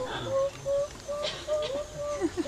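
A human voice imitates a mourning dove's coo in a series of short, soft, evenly spaced hooting notes, fairly close, with slight background murmur.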